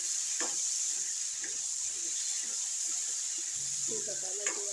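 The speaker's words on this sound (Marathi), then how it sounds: "अशी वांगी पण तळून घ्यायची छान प्रकारे." Eggplant (brinjal) frying in oil in a pan, a steady hissing sizzle throughout, with faint stirring clinks and quiet voices in the background.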